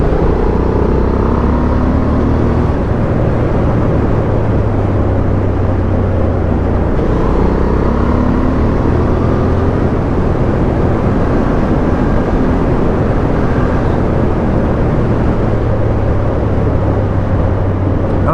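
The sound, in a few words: riding 2023 Honda Hornet parallel-twin motorcycle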